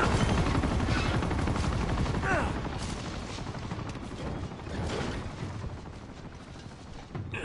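Gunfire in the video game Uncharted 2: Among Thieves, dense and continuous bursts of shots filling the whole stretch, loud and close with some mechanical clatter mixed in.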